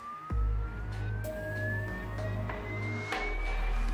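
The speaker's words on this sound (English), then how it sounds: "the engineers generate a sinusoidal tone through a loudspeaker and direct it at the car at changing frequencies or pitch" A pure sinusoidal test tone plays from a loudspeaker aimed at a Lamborghini Huracan EVO in the factory, its pitch steadily rising as it sweeps over low rumbling and knocks.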